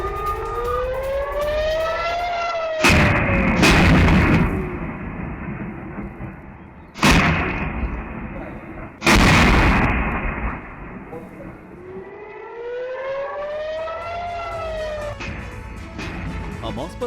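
Rocket attack on Kiryat Shmona with a wailing air-raid siren rising and falling, cut by three heavy booming blasts of impact and artillery fire, each followed by a rumbling decay before the siren resumes.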